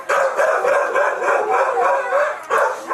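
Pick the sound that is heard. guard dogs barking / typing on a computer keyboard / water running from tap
guard dogs barking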